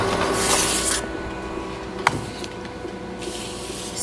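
A printer running off custom lip gloss label stickers, a steady mechanical whir with brief louder sweeps at the start and end and a single sharp click midway.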